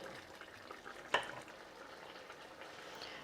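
A tomato mixture bubbles and sizzles quietly in a pan while boiled potatoes are drained, a soft continuous simmer with one sharp clink of cookware near the middle.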